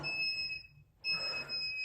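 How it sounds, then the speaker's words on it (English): A workout interval timer buzzer sounds as a steady high electronic tone, breaks off briefly, then resumes for a second burst, loud and clear with no talking. "get ready to go on the buzzer"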